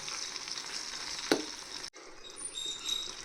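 Tuna fish pieces fry in oil for pickle with a steady sizzling hiss and one sharp clatter, then the sound abruptly drops to a quieter, fainter sizzle.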